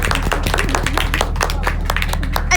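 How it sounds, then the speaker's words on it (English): Audience hands clapping at a motivational talk during a festival event, a dense, steady patter of claps filling the whole stretch at even loudness with no talk over it. "Clap your hands again"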